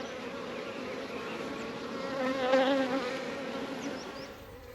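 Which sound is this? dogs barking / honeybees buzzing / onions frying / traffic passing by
honeybees buzzing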